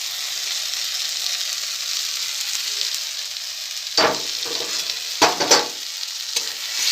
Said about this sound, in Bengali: এটা কিন্তু আমি এখন অনেকক্ষণ ধরে এইরকম করে করে পুরো একদম শাকের সাথে মানে মিক্সড করে দেবো আর তার সাথে সাথে কিন্তু একটু লাল লাল করে ভেজেও নেব